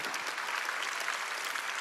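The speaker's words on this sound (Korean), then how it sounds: "박수 치라" A congregation at a revival meeting in Jeonju Indoor Gymnasium claps together, an even, continuous patter of many hands heard from a distance at moderate volume.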